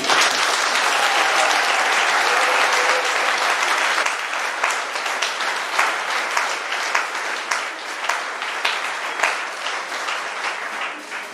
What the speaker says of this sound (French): Donc je tiens à ce que vous applaudissez.